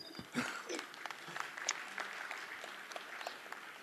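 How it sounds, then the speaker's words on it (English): Thin, scattered clapping rises from a small audience after a conference presentation, fairly quiet and uneven, with a few louder hand claps and some faint murmuring in the room. "Please applause"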